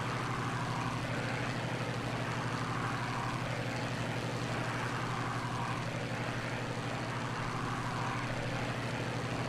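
A warbird's aircraft engine drones steadily and evenly in Microsoft Flight Simulator, with a constant propeller hum holding at moderate loudness throughout, without any talk.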